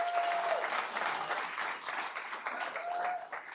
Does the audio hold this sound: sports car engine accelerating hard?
no